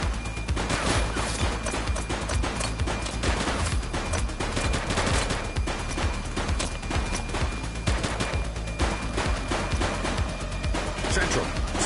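Rapid bursts of police and suspect gunfire ring out in the video game The Precinct, dense automatic shots and crashes repeating across the whole stretch at close, loud range.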